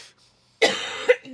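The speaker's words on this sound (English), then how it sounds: "Sorry, I got a cough again." A person in a cabin coughs in a short burst, a sharp harsh cough followed quickly by a second one, close to the microphone after a moment of near silence.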